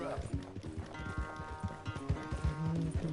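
Horse hooves clip-clop steadily in Red Dead Redemption 2, a rhythmic run of close, fairly loud hoofbeats over game sounds, with someone talking throughout.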